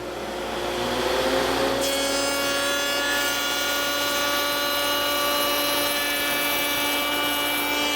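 A woodworking shaper-router spins up and cuts a board held against the fence, a loud sustained high-pitched whine with a rising pitch at the start, then a steady roar as the cut proceeds.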